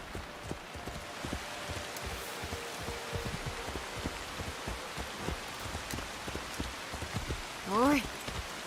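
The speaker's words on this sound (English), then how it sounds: "It's always raining." Steady rain pours down in Assassin's Creed Shadows, a dense hiss of drops on surfaces running the whole time, with a brief rising chime near the end.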